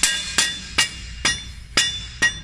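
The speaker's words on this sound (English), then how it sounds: "You might need a rubber mallet" A rubber mallet taps a bracket into place while a reverser is installed on a Lexion combine: five sharp, evenly spaced knocks roughly every half second, close and clear, with no talking.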